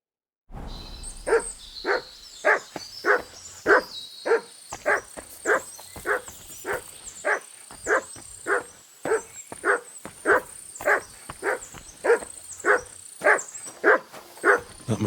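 Dog barking in Kingdom Come Deliverance 2, a steady run of about twenty loud, evenly spaced barks close by over a faint ambient hiss.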